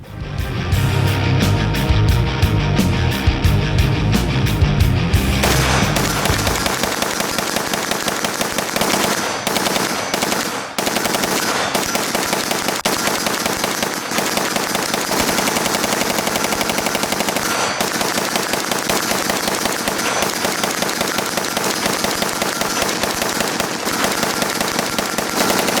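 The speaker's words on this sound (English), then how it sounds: "500 rounds as quickly as I can feed them through the gun" A rifle fires continuous rapid shots during a 500-round burn-down test, with the gun fed as fast as possible. The loud, dense, unbroken bursts run for the whole stretch, with only brief gaps.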